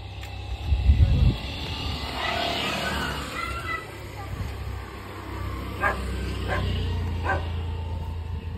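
A dog in a village near Khed, Maharashtra, gives three short, distant barks over steady outdoor background noise, with a few faint voices nearby.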